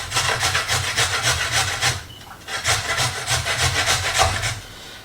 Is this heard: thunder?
no